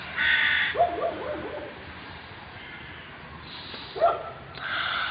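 Crows caw in short harsh bursts, one near the start and another around the fourth second, with quieter calls between against a soft outdoor background.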